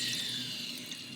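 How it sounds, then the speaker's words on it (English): Water is poured into the base of a stained glass grinder, a steady bright splashing and trickling stream that stays close and fairly even for the whole moment, with no speech. "I'm just pouring water into the"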